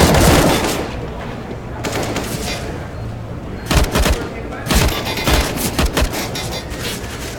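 Bursts of automatic rifle spray from Counter-Strike: Global Offensive gameplay at a tournament final, rapid rattling volleys in several clusters, loud and dense over a steady background of crowd noise and game ambience.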